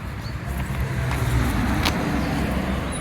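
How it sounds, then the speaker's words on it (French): Cars pass along a roadside in France, a continuous loud wash of tyre and engine noise close by with no gaps between vehicles. "Évidemment, il y a des voitures qui passent."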